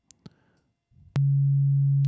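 An Access Virus synthesizer oscillator set to a sine wave and frequency-modulated by another oscillator plays a loud, steady, pure low tone after a few soft clicks and a brief quiet rumble.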